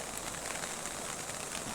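Heavy rain falling steadily in a mountain area, a dense continuous hiss with no pauses, fairly faint and with no voices over it.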